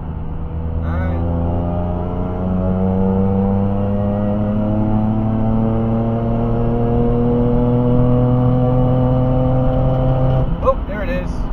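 A Nissan 370Z with a Whipple supercharger and destroyed high-flow cats pulls hard in fourth gear toward about 7,000 rpm. It makes a loud, close engine drone whose pitch climbs steadily before cutting off abruptly near the end.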